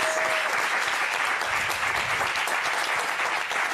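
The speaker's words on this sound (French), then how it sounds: "On peut l'applaudir." A studio audience applauds Loana, a reality-TV star, on a French talk show: steady, dense clapping that fills the whole stretch at even loudness, with no voices over it.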